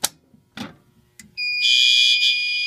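A conventional fire alarm system: a few clicks and a short beep, then a loud, steady electronic alarm tone starts and holds, shrill and continuous.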